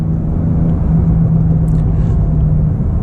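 Porsche 992 Turbo S engine cruising in Sport Plus mode, held in a low gear: a steady, loud low rumble with a faint whirring tone running throughout, no talk.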